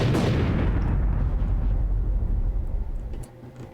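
A heavy, booming blast of enemy torpedo fire strikes a spaceship in a space piracy video game. It hits loud and close, then a long rumbling roar fades away.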